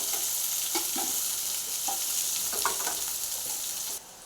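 Chopped garlic and small onions frying in hot oil for fish curry, a continuous sizzle broken by several light scrapes and stirs, close and fairly quiet, stopping abruptly at the end.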